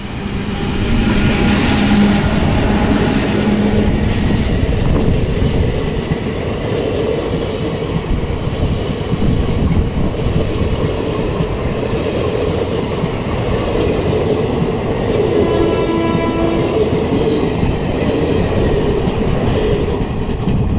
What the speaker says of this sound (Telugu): ఫ్రంట్ వచ్చేసి ట్రైన్ కర్నూలు సిటీ నుంచి అయితే డిపార్చ్ అవుతుంది.